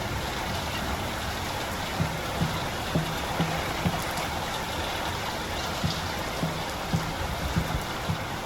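Steady storm rain pours in Layers of Fear (2023), a dense, even hiss with faint low thumps knocking at irregular intervals.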